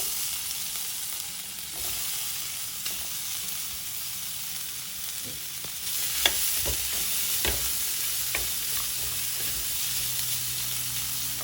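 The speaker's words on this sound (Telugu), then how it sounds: "1 స్పూన్ ఆయిల్ వేసి మనం కట్ చేసి పెట్టుకున్న అల్లాన్ని వేసి వేయించుకోవాలి" Chopped ginger fries in a spoonful of oil in a pan with a constant soft sizzle. A spatula stirs and scrapes, making sharper clicks and scrapes partway through.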